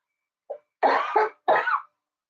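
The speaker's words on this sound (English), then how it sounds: "coughing now too" A short burst of coughing: a faint lead-in then two harsh coughs close to the microphone, followed by silence.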